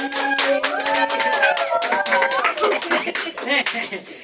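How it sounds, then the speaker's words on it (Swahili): A church congregation claps for the Lord in quick, uneven rhythm, many hands close and loud, with voices calling and talking over the clapping before it thins toward the end. "Pigia Bwana makofi"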